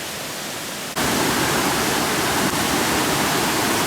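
A mountain stream near a hiking trail in the Chartreuse rushes in a dense, steady roar that swells abruptly louder about a second in, then holds constant and close, with no voices.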